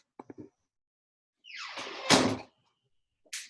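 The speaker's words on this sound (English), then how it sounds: "I'm going to go shut my door." A door is shut indoors: a few light knocks, then a sliding, scraping swing that ends in a firm thud, followed by a short sharp click, all fairly close in a quiet room with no talk.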